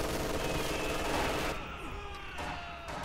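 Machine gun fire in a World War II strategy game battle, a dense fusillade for about a second and a half that drops to quieter scattered shots and battle noise.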